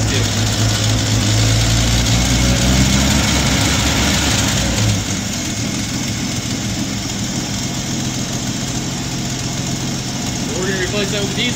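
A rebuilt truck engine idles loud and steady throughout with an even mechanical rumble that shifts slightly partway through, while someone talks over it.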